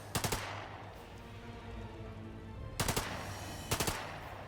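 Three quick, sharp bursts of gunfire from The Lamplighters League, each a tight rattle of three or four shots, spaced apart over a low, steady background hum.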